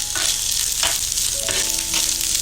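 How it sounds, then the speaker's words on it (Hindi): Carrots with ginger and green chili stir-fry over a low flame in a pan for veg spring rolls, giving a constant close sizzle broken by a few light scrapes and clinks of the spoon. "तो इसको ऐसे ही हम ऐड करते हुए चलाते हुए जाएंगे।"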